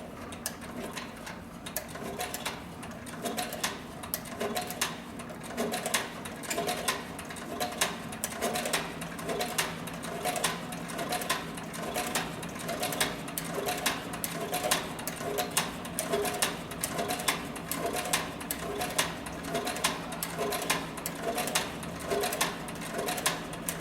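Heavy-duty sewing machine stitching through several layers of very heavy saddle skirting leather, a steady rapid mechanical thumping that runs evenly throughout, close and loud with no talk.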